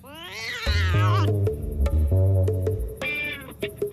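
A cat meows loudly several times up close, long drawn-out yowls with a rising, wailing tone.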